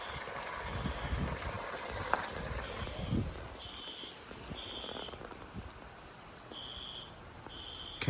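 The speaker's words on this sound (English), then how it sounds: "Can hear all of our fire alarms are in sync." Building fire alarms sound during testing, repeating short high electronic tones in a steady pattern over a rumbling, noisy background.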